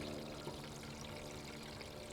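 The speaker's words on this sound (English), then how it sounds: "I just pour it into the bottom of the tray and let it sit for maybe a half an hour" Liquid worm castings poured into the bottom of a plant seedling tray make a soft, steady trickling stream, quiet and continuous throughout.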